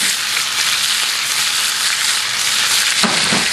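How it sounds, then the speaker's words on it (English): Steady, loud sizzling of bell peppers frying in a hot pan, a dense continuous hiss with a few brief stirring clatters near the end. "I want to hear that sizzle."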